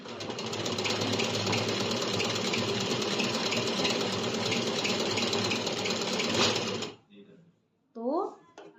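A sewing machine runs steadily for about seven seconds, stitching a salwar seam in one continuous close whir, then stops and someone speaks briefly.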